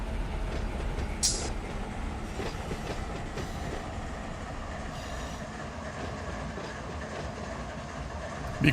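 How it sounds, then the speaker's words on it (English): Switching locomotive in the Run 8 Train Simulator game on a Norfolk Southern local: a steady, rumbling rail drone with soft wheel clatter and a brief high squeal early on, with no talking. "World's biggest switching locomotives here."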